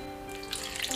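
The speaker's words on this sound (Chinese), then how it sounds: "倒入清水" Clean water runs from a tap into a bowl holding halved beef shank, a steady close rush of pouring water that grows brighter and splashier toward the end.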